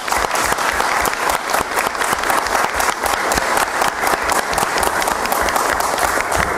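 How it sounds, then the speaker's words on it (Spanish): Attendees at a municipal citizen security committee meeting break into loud applause, a thick, continuous clatter of many hands close to the microphone, holding steady throughout without talk. "terminamos con un aplauso para ella"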